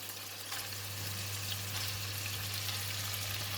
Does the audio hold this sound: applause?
no